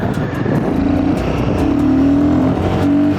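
A 2025 Royal Enfield Guerrilla 450 motorcycle accelerates on a city ride, its engine note rising and holding loud and close, with a steady rumble and climbing tone over wind noise.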